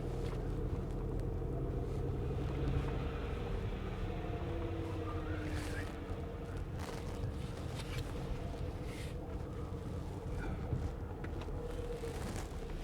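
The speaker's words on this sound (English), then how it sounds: "We'll park the car in the back." A car being driven slowly around to the back and parked, heard as a steady low engine rumble with wind noise, continuous and fairly close throughout.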